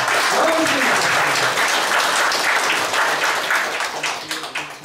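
Loud, sustained applause from an audience at a Korean book launch, a dense wash of clapping lasting throughout with voices mixed in underneath and fading slightly toward the end.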